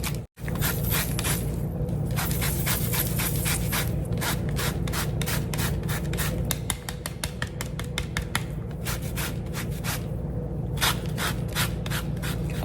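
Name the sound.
zesting a lemon over a pound cake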